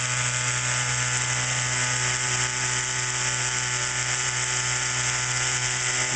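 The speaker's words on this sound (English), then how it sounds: "But that is the centrifuge." See-through oil centrifuge spinning as it filters waste vegetable oil, a loud, constant whirring drone with a steady hum and hiss that holds unchanged throughout, with nobody speaking.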